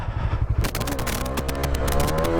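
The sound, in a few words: motorcycle riding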